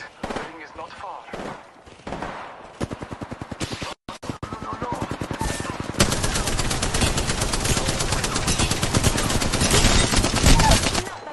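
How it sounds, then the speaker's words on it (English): Video game gunfire erupts in rapid automatic bursts that build into a dense, continuous barrage of loud shots, with a voice talking over the opening seconds. "Enough, I'm getting shot at."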